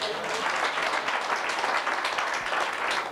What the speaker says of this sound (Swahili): Labda sisi tuna kumpatia makofi,